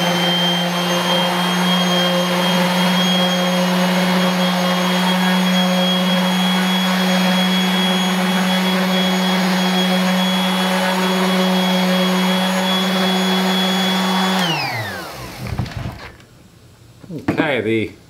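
An orbital sander runs steadily on a workpiece with a loud, even whirring hum, then winds down near the end, leaving a few clunks and rattles as it stops.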